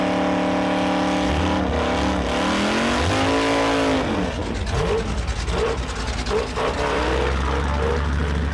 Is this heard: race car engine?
yes